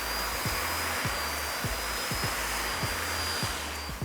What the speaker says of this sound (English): Then I blow dry the hair.